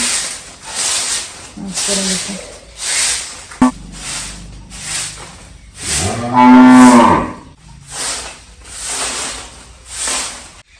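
Cows on a village farm give one loud, drawn-out moo close by midway through, surrounded by fainter farmyard noises and rustling.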